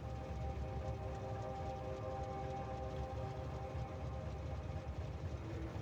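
A train rolls along in the factory-building game Factorio, a steady mechanical rumble with faint sustained tones running evenly throughout, with no voices.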